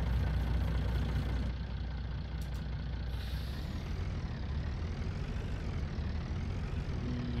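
A tractor engine in Farming Simulator pulls a John Deere, producing a steady low diesel rumble that stays constant and fairly near, with no talk over it.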